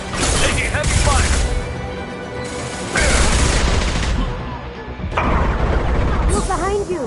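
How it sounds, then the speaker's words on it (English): Heavy gunfire from a Mass Effect 2 firefight, sustained bursts of rifle and machine-gun shots with crashing impacts, loud and close throughout, with brief lulls between volleys and voices calling out under the shooting. "Taking heavy fire."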